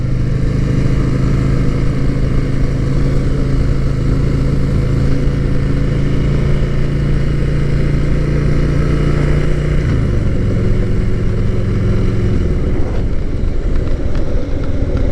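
A Harley-Davidson Sportster motorcycle engine runs loud and close with a steady, deep rumble, its pitch dropping slightly near the end as it settles to idle.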